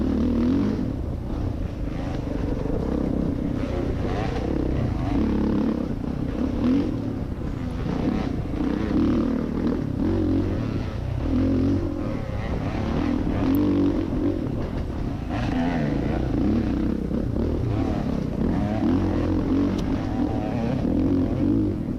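A Yamaha YZ250 two-stroke dirt bike racing on a motocross track, engine note rising and falling steadily as the rider works the throttle, close and continuous with other bikes blending in.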